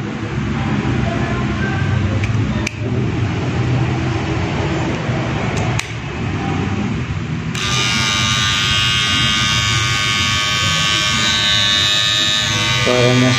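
Kemei KM-1102 electric shaver running with a steady, slightly rough buzz close up, shifting partway through to a harsher, brighter whine as the cutting head changes load.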